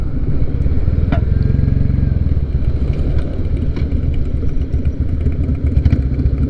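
A Royal Enfield Classic 350 single-cylinder motorcycle on the move, its engine a close, steady, low thumping beat under constant road and wind rush.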